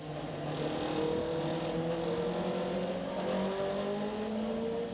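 Caterham Super 7 race cars at the Silverstone international circuit, a pack of engines roaring and shifting pitch together as they brake and accelerate, loud and continuous throughout.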